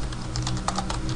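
Typing a web address into the Firefox browser on a computer keyboard, a quick run of close, clicky keystrokes in an uneven rhythm with no talking.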